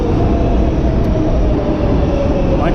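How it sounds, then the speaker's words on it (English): A New York City subway train pulls into the station, a loud, steady low rumble of wheels and motor filling the platform throughout, with a faint rising whine near the end. "Train is here."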